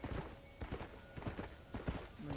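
Horse hooves clip-clopping in the Red Dead Redemption: Undead Nightmare video game, a quiet, irregular run of soft thuds over a few seconds.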